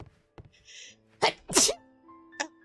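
A single sharp sneeze bursts out close to the microphone, preceded by a small inhaled lead-in and followed by a brief second breathy sound, in an otherwise quiet room.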